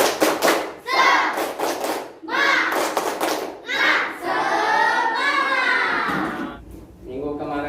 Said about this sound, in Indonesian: oke semuanya tepuk semangat.